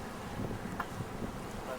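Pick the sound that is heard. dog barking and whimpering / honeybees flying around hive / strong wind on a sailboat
strong wind on a sailboat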